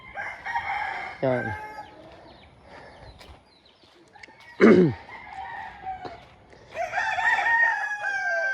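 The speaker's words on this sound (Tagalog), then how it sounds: "Daming panabong ano mga kalayas." Fighting roosters crowing outdoors, several loud cock-a-doodle-doo calls at close and middle distance with clucks in between, and someone speaks briefly.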